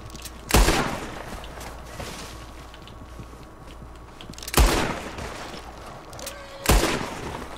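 Three sharp gunshots ring out in Red Dead Redemption 2, spaced a few seconds apart over quiet background ambience, each a loud crack with a short echoing tail.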